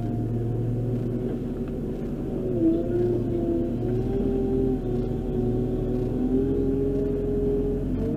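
A farm tractor's engine drones steadily at close range, a constant low rumble with a slight rise and fall in pitch as it drives, and no talking.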